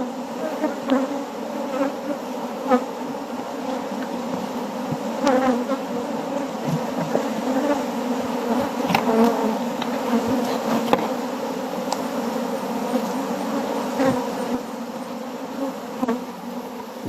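Honeybees hum in a dense, steady drone while a beekeeper harvests honey from the hive, the buzzing continuous and close with individual bees flying past now and then.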